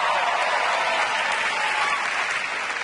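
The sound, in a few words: audience applause at a stand-up comedy show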